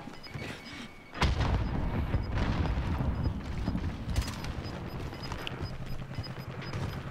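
Frag grenade explosion in the Warzone video game: a sudden loud blast about a second in, followed by sustained rumbling battle noise with scattered gunfire and mechanical clatter.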